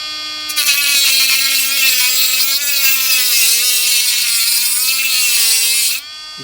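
A cheap AliExpress power tool cuts into an aluminum piece at maximum speed, giving a steady, loud, high-pitched whine with a slowly wavering tone that runs for about five seconds and then cuts off sharply.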